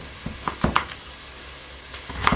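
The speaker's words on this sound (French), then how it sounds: "Alors, les échalotes à revenir." Shallots sautéing in a pan give a steady soft sizzle, broken by a few sharp clinks and scrapes of a utensil against the pan, close and fairly quiet with no talk.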